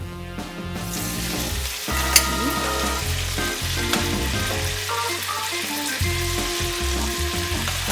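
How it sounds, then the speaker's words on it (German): Spaghetti and bacon sizzle steadily in a hot pan, with bursts of crackling and occasional clinks of utensils stirring, close up. "ich gebe sie jetzt direkt in die heiße Pfanne zu dem Speck hinein"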